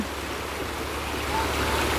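A full, brimming stream at a riverside campsite in late November, flowing with a steady broadband wash that holds constant and fairly close throughout.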